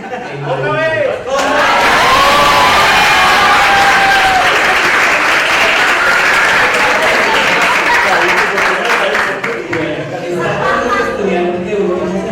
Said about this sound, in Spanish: Por favor, un aplauso para el profesor David Arias.